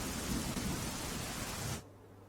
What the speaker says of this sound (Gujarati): વલસાડ જિલ્લામાં સાર્વત્રિક વરસાદ વરસી રહ્યો છે